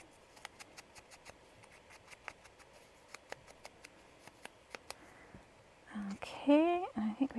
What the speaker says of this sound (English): Let's trim up the edges of this one a little bit better.